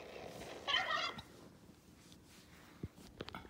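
A turkey gobbles once in a short rattling burst near the start, then only faint low background noise follows.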